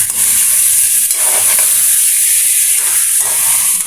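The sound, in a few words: chicken being sautéed and stirred in a pan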